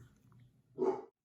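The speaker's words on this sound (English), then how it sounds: "Excuse my dog's barking in the background here." A dog gives one short, muffled bark in the background, faint and brief after a stretch of low murmur.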